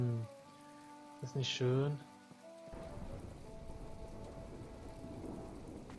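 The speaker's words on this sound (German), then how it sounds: "Schön durch den Regen spazieren hier." Steady rain falls in the video game My Time at Portia, a dense hiss of drops that begins abruptly and continues, with someone speaking briefly just before it starts.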